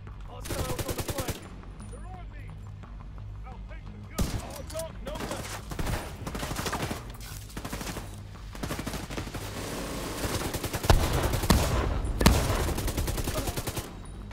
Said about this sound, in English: Minigun again.